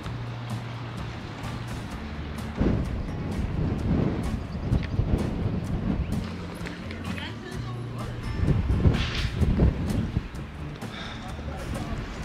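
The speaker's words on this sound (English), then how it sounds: "Most days it's pretty windy, but like today it's okay, it's mild wind." Mild wind buffets the microphone in rumbling, uneven gusts at the Gilleleje fishing harbour in Denmark, with faint voices mixed into the steady outdoor noise.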